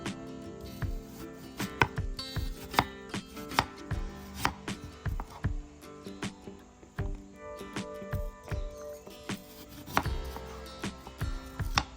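A knife chops an apple on a board for a vegetable salad, with crisp, fairly regular cuts landing in steady bursts that sound close and clear, and no one talking.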